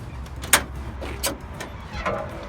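Hood of a 1967 Ford Mustang coupe being opened, a sharp metallic latch click followed by a few softer thuds and creaks, close and brief.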